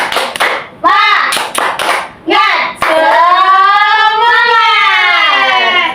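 A few sharp claps come first, then a group of children joins in with a long, loud, drawn-out shout.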